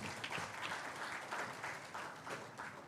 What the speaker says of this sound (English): I think a big round of applause for him.